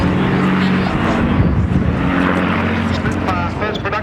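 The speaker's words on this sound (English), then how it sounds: "Squadron Leader Al Pinner flying the Spitfire for us today" Spitfire Mark I propeller fighter flying at a Battle of Britain air display at RAF Cosford, a loud steady engine drone with a sustained low hum, under a voice speaking over it.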